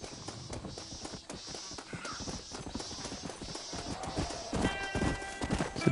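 Rhythmic clip-clop of horse hooves trotting steadily in Red Dead Redemption, close and clear, with a horse snorting and faint ambient tones toward the end.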